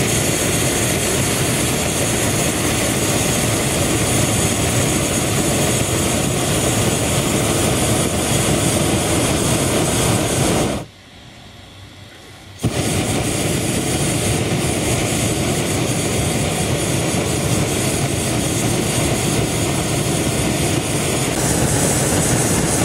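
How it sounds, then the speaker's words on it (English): A hot air balloon's burner, run on its quietest setting while flying over a town at night, gives a loud, steady roar that cuts out for about two seconds midway and then resumes. "Using my quietest burner flying over the town"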